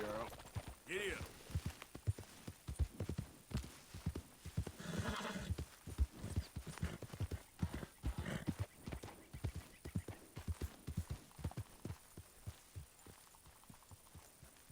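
A horse ridden in Red Dead Redemption 2 clip-clops in a steady, rhythmic gallop of hoofbeats, with an early whinny, while someone talks intermittently over it.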